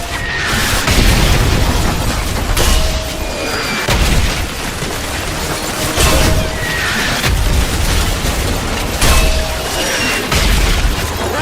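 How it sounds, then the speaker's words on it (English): Mortar rounds firing and bursting across a village battlefield in Call of Duty Modern Warfare, heavy booms repeating every couple of seconds over a constant loud wash of combat noise, with no voices. "Keep firing the mortar!"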